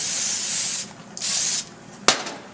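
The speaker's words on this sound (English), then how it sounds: "I get some brake clean and I spray that all out" Two long hissing bursts of aerosol brake cleaner sprayed into a Victory Vision motorcycle fork, close up, separated by a short pause, then a sharp knock and a brief final hiss.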